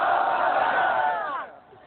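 A large crowd answers a preacher's call of the takbir slogan with a loud, unified chant lasting under two seconds that fades out at the end, with no other voices over it.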